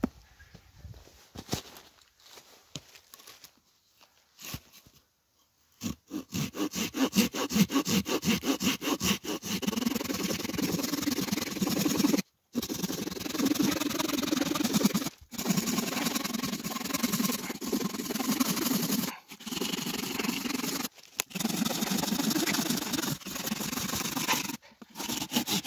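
Opinel No.12 folding saw cutting through a roughly 10 cm spruce log for firewood: quick rhythmic rasping strokes, close and continuous, with a few brief pauses between bursts.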